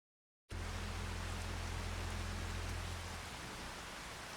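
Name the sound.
rain in a farming video game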